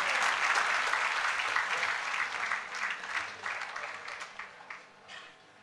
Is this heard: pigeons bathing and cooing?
no